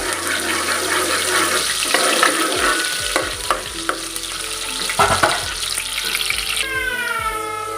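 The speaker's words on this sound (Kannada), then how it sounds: "ಈರುಳ್ಳಿನ ಕಟ್ ಮಾಡಿ ಒಗ್ಗರಣೆಗೆ ಹಾಕ್ಕೊಂಡಿದ್ದೀನಿ ಇದನ್ನು ಚೆನ್ನಾಗಿ ಫ್ರೈ ಮಾಡ್ಕೊಳ್ಳಿ" Chopped onion sizzles in hot oil for tempering a country chicken curry, a bright steady frying hiss broken by several clattering stirs and scrapes in the pan, no voices.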